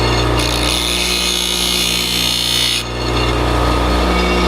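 A carving tool's flat edge worked back and forth on an oiled sharpening stone, a steady close rasping scrape over a constant low hum, dropping away briefly near the end.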